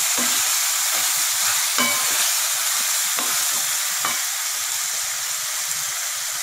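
Boiled wheat pasta and vegetables sauté in a hot pan, giving a steady, close crackling sizzle throughout, with a few soft stirring scrapes and no talk.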